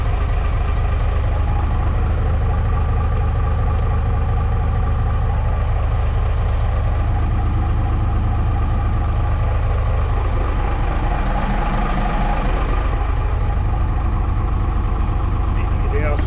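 A boat engine running in gear drones at low pitch throughout, its revs shifting slightly partway through, with a low hum and rumble filling the whole stretch.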